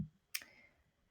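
A single sharp computer mouse click on a download button, close and fairly quiet, with a short soft tail in a quiet room.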